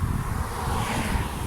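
Steady, strong wind roars against the microphone while cycling along a road, a continuous low rumbling buffet with no breaks.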